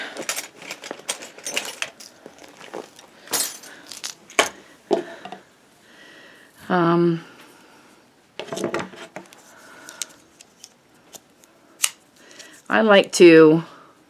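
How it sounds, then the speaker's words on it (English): Scissors snip through yarn while a border is worked around a crocheted square, giving a few short, crisp cuts mixed with light handling clatter and brief bursts of talk. "Scissors."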